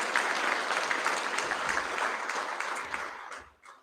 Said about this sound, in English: another round of applause for Logan